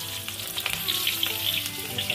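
Shallots fry in hot oil for sambal pecel lele, giving a steady close sizzle with small crackling pops throughout and no voices.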